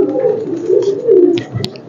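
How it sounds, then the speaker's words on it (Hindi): Pigeons coo steadily at a Sufi shrine in Faisalabad where costly birds are kept in rooms, their low, soft, repeated calls running unbroken through the whole stretch, with a few brief flutters and clicks near the end. "पाकिस्तान के महंगे से महंगा कबूतर यहाँ पे मौजूद है"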